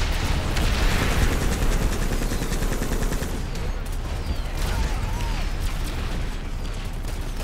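Flail artillery in the Planetside 2 video game pounds away as a dense, loud barrage of rapid gunfire and explosions, with a steady roar of battle underneath that continues throughout.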